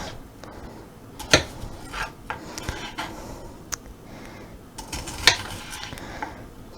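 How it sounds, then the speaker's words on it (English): A kitchen knife thinly slicing shallots on a board: irregular close taps and scraping strokes, with a few sharper knocks among softer rubbing, and no talking. "We're just gonna slice them as thinly as we can."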